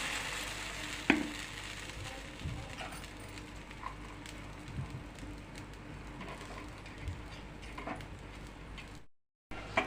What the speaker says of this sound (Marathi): अशा पद्धतीने सगळे अप्पे पलटवून घ्यायचे चमच्याने